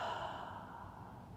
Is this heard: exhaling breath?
yes